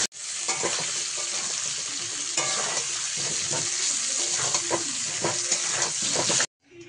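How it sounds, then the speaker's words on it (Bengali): Potatoes fry in oil with turmeric and salt, giving a loud, steady sizzle with scattered scraping taps from a stirring utensil, ending abruptly. "আলুটা একটু হলুদ আর একটু লবণ দিয়ে ভেজে নিই।"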